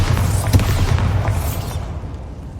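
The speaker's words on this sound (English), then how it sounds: "Bombarda!" A Bombarda explosion spell cast in Hogwarts Legacy, a deep rumbling boom with crackling debris that fades out over a couple of seconds, heard without any voices.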